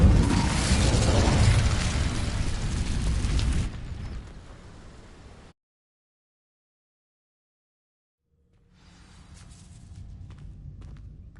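Incendio fire spell cast in Hogwarts Legacy: a loud, roaring burst of flame that lasts a few seconds, tapers into a softer crackle, cuts to silence, then gives way to a low, quiet ambience.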